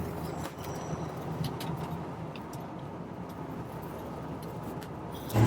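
A 1956 Chevy 3100 pickup truck driving on the road, a steady low engine and road rumble with wind noise inside the cab, holding constant before a sudden louder surge at the very end.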